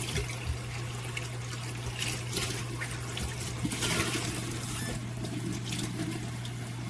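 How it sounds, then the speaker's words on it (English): A cup rinsed under running tap water in a kitchen: a continuous splashing hiss with a steady low hum underneath, lasting several seconds, close and without talk. "I'm going to rinse my cup out."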